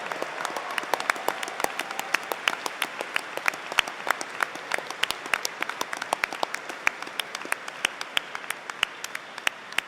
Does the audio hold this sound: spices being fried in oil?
no